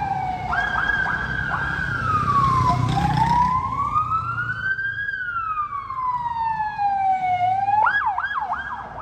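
An ambulance siren wails loudly nearby, sweeping up and down in long glides and then switching to a fast yelping warble, with traffic rumbling underneath.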